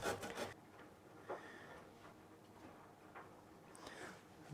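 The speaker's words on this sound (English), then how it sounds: "I'm just gonna grate that straight in." A Persian cucumber is grated straight into a dish, producing soft, faint rasping strokes in an uneven rhythm over a quiet kitchen background.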